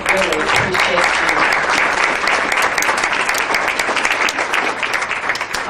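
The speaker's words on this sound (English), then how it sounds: "I want you to give yourselves a round of applause because we really, really appreciate you." Classmates at a reunion picnic break into sustained applause, a close, loud, continuous clatter of many hands lasting the whole stretch.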